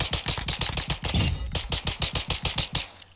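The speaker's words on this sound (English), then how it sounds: "that's the fastest that I can fire this thing because there is a pistol cap" A pistol fires in rapid succession in Modern Warfare 2, roughly a dozen and a half sharp, evenly spaced shots in quick rhythm, loud and close with no voice over them.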